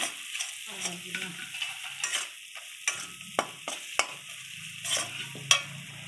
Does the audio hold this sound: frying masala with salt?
yes